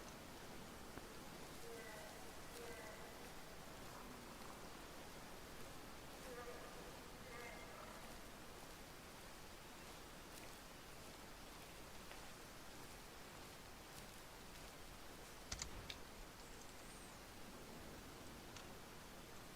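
Steady rain falls across an outdoor hunting landscape in the video game Way of the Hunter, a dense even hiss that holds throughout at low level, with a brief small click near the end.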